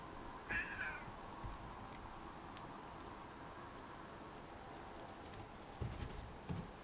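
A cat meows briefly once near the start, faint against a steady hiss of rain-like background noise, followed by a couple of soft low knocks later.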